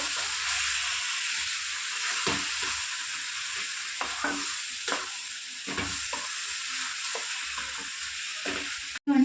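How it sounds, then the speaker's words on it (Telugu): Salted chicken with fenugreek leaves is stir-fried in a pan: a steady sizzling hiss with frequent sharp scrapes and knocks of stirring, close and ongoing. "ఒక రెండు మూడు నిమిషాలు కలుపుకుంటూ ఫ్రై చేసుకున్నాం"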